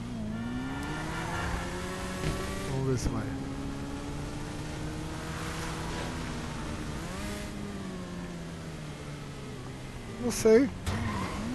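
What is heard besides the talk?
motorcycle engine and tire skids in GTA V video game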